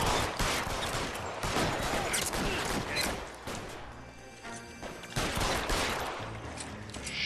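Rapid gunfire from the video game L.A. Noire crackles in dense, overlapping bursts through most of the stretch, loud and close, with a brief lull near the middle before the shooting picks up again.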